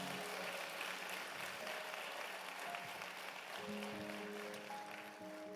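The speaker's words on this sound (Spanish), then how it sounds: "denle un aplauso fuerte a Jesús" Worshippers at a church service break into steady applause, a dense, even patter of many hands, fairly quiet and distant, with sustained organ or keyboard notes ringing beneath it.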